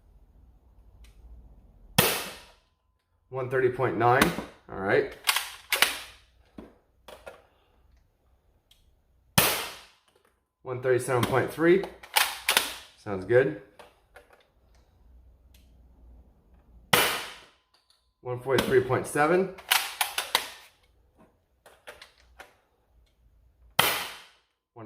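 An Adventure Force Deuce Pro foam dart blaster fires through a chronograph, giving about four sharp, isolated snaps spaced several seconds apart. Someone speaks briefly between the shots.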